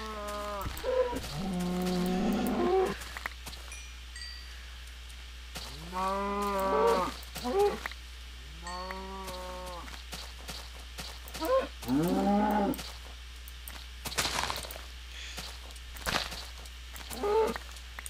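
Several loud, drawn-out moos from a cow in Minecraft come in separate calls with quiet gaps between them, alongside a steady low background hum and scattered clicks.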